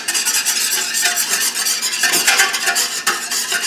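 A utensil beats a couple of eggs briskly in a bowl, making fast wet rhythmic clicking and sloshing that stays close and steady throughout, with no talking.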